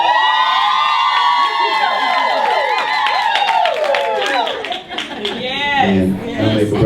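A theater crowd gathered for a KEM show cheers and claps loudly, with shrill whoops and shouts rising and falling over continuous applause throughout.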